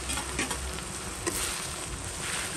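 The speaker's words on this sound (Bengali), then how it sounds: "এটাকে ভালো করে মশলাটা ভেজে নেব" Chili and spices fry in a pan, giving a dense, continuous sizzling hiss with a few brief stirring knocks, close and steady throughout.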